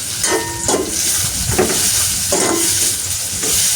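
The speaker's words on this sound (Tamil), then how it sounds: "இது நல்லா பொரிக்கணும், அப்பதான் டேஸ்டா இருக்கும்" Food sizzles and fries steadily in a pan, with a utensil scraping and stirring several times at irregular intervals, close and continuous.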